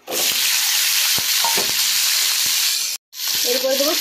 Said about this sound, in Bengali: লঙ্কাটা ভালো ভাজা হয়ে গেছে, এরপরে দেবো ভেন্ডিগুলো।